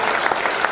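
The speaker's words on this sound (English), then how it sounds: "Hey, round of applause to Hayden Highly." Audience applause at a sports hall of fame induction ceremony, a brief burst of dense, even clapping.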